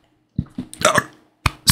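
Several short, abrupt hiccup-like bursts from a person, coming in two uneven clusters with brief pauses between them, close and fairly loud, with no talking.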